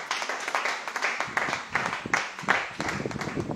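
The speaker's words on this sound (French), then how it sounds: "Let's clap for the Lord." A church congregation claps for the Lord at an assembly gathering, a dense, steady round of hand clapping with a few stronger accents and faint voices underneath.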